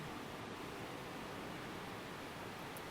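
Steady, soothing water rushes continuously like distant surf or a waterfall, an even broadband wash that fills the background without pause behind a guided meditation.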